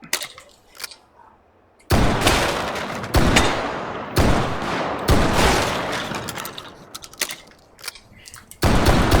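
Shotgun blasts in the H3VR virtual reality game, several loud booming shots at uneven intervals with pauses between them, each one sharp and close with a short tail.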